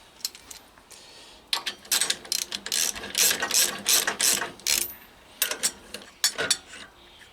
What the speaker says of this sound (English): Secure the bike and undo the bolts.